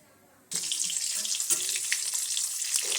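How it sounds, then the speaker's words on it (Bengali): Potatoes with turmeric hit hot oil after a half second of quiet, and a loud, bright sizzle bursts up and carries on steadily with small crackles. "এবার আলুগুলো হলুদ দিয়ে ভাজি"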